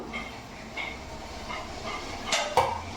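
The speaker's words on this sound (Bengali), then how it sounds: "এবার ঢাকাটা খুলবো" A steamer pot lid is lifted after steaming, giving a short metallic clatter and clank near the end over a soft background hiss.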